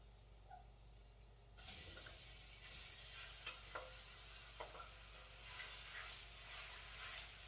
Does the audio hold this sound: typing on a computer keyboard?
no